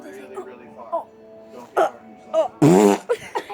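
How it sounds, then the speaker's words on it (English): A voice-made fart noise, a loud wet burst near the end following mouth sounds and short vocal bits, likely produced with the mouth as part of a song prank. "I can fart while I'm making a song."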